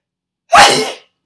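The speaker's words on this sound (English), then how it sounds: "I'm going to sneeze." A single sharp, loud sneeze bursts out close up, then quickly fades into silence.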